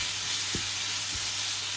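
Minced beef for chilli con carne browns in a pan with a steady sizzling hiss, while a spatula breaks it up and turns it in two soft scraping strokes.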